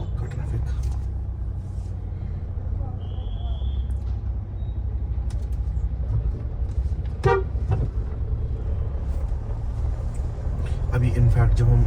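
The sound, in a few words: traffic and car horns at intersection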